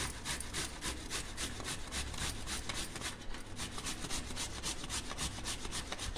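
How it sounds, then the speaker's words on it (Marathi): Peeled potatoes being grated by hand for fasting-day sago papad: quick, regular rasping strokes repeat steadily at close range with no talk. "किसून घेऊ"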